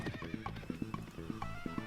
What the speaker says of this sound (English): Looks like this one's themed with spirited horses.